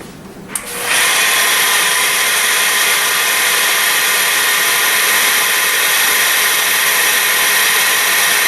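Quartz countertop being polished with an 800 grit pad on a power polisher, which starts up after a second of quiet and then holds a loud, steady high whine to the end.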